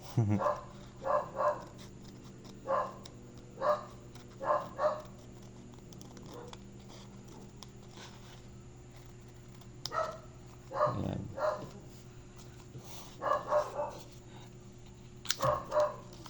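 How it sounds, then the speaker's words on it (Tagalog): A dog barks repeatedly in short clustered bursts, moderately close, with quiet pauses between volleys and a brief word spoken once. "Ingay ng aso."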